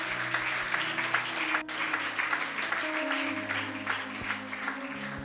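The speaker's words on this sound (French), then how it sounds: "Nous acclamons le Seigneur." A church congregation claps steadily and loudly for several seconds, with sustained musical tones behind the applause.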